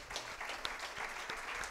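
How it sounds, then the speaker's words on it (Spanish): Audience applause fills a theater during a live talk event, a dense steady wash of clapping hands throughout with no voices standing out. "Un fuerte aplauso también para uno de los grandes"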